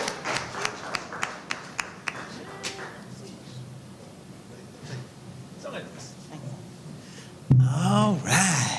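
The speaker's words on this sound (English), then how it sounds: "Clap it up, clap it up." A few distinct claps ring out in a loose rhythm at a live Thursday night music and culture event. Speech follows over a quiet room, and a burst of louder talk closes it.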